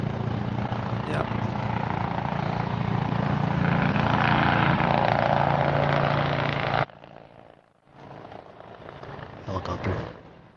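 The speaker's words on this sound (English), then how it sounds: "Helicopter." A helicopter passing overhead outdoors on a university campus, a steady loud broadband rotor and engine roar for several seconds that cuts off abruptly, followed by quieter background noise that swells again briefly.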